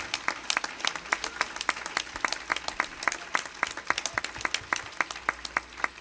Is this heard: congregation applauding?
yes